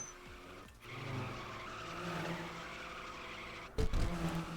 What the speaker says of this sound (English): Ignore the tire screeching.